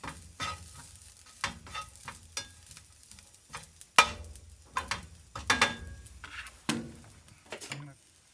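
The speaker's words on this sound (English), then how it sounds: "The pan's got a bit of oil in it. So the onions are cooked down a bit now." Onions cooking down in a little oil in a pan over low heat for camp ketchup, giving a steady soft sizzle broken by repeated scraping stirs and occasional clinks, with no talking.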